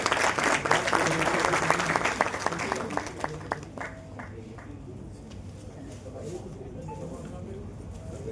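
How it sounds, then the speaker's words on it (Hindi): Loud applause from a church council audience in Delhi welcoming a speaker, dense clapping that fades over a few seconds into a quieter room with scattered claps and murmur. "जोरदार तालियों के साथ उनका स्वागत करें प्लीज।"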